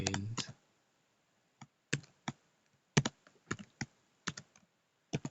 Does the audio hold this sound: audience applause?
no